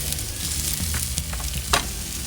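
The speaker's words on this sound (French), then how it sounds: "Maintenant que la viande est saisie" Pork ribs in a homemade marinade searing on a barbecue grill, a close, steady sizzle and crackle with a few louder pops and hisses, with no voices.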